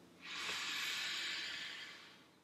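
One long, deep inhaled breath taken close to the microphone, a loud airy hiss that swells quickly, holds for about a second and a half, then fades, with no talking.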